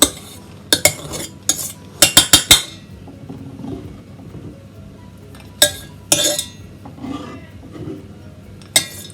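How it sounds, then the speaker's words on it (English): Ingredients for a tomato pasta sauce tipped into a saucepan, with sharp metallic clinks and clatters of utensils against the pan in quick bursts, then a few scattered knocks and a quieter stretch between. "I'm just going to put it in my saucepan."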